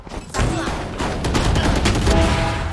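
Rapid gunfire in the horror shooter game Horror Raze, a dense loud volley of shots starting abruptly and rattling on steadily with booming impacts.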